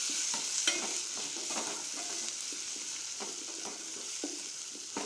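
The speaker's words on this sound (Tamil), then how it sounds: "இப்போ எடுத்து வச்சுருக்கிற மிளகாத்தூள் போட்டு நல்லா அந்த எண்ணெயில் வதக்கிக்குவோம்." Drumsticks sautéing with chili powder in oil for a tamarind kuzhambu: a bright continuous hiss of frying under repeated soft scrapes and pushes of a spoon stirring the pan, close up and without speech.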